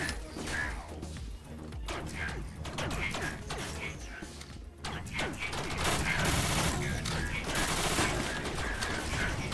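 Bursts of rapid gunfire in the video game Rec Room, with repeated sharp shots and crashes in quick clusters throughout, fairly loud and close.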